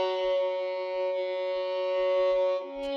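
A sustained string line in the style of a violin part from an Amapiano-style beat built in FL Studio, holding steady layered notes for about two and a half seconds before shifting to a lower note, with no talking.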